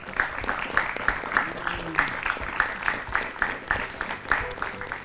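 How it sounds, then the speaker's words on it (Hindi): Applause from a studio audience on a Hindi comedy quiz show after a correct answer, a steady loud patter of clapping with rhythmic accents, mixed with music and voices underneath. "हो जाए जोरदार तालियां।"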